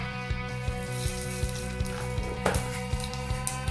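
Dried red chillies and cumin seeds sizzle in melted ghee for a buttermilk rasam tempering: a soft, continuous crackle with small popping ticks, under a steady droning hum.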